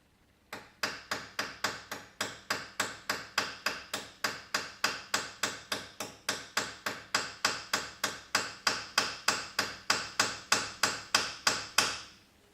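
Hammer tapping a rivet in silver jewellery making, about thirty sharp, evenly spaced metallic blows in a steady quick rhythm, close and fairly loud, with no talking.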